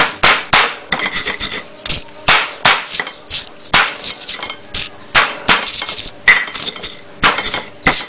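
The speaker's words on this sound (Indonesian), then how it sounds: "kita tumbuk garam dan bawangnya, hanya kita kecak aja, kita memarkan aja, tidak sampai halus" Salt and shallots pounded with a pestle, a loud, close, steady series of sharp thuds and knocks, each blow followed by a brief grinding scrape.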